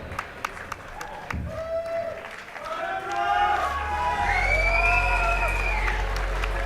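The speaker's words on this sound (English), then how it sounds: "please give a round of applause to your honor" Crowd applause and cheering at a boxing match, building in the later part of the clip, with whistles, shouts and a tonal siren-like wail rising over the noise.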